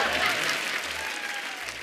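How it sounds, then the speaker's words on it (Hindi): A television studio audience claps loudly and steadily for Nora Fatehi, a dense continuous wash of applause at close range with faint voices mixed underneath. "नोरा के लिए जोरदार तालियां ले जाइए।"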